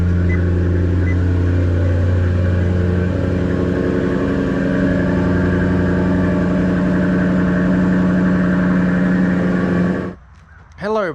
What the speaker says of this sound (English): putting it on the ignition, hearing all the mechanicals, and starting the car